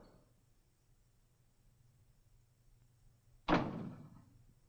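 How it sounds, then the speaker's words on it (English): A single sharp door slam lands near the end, loud and close, after a quiet stretch of low room hum in a Western cowboy setting. "Close the door."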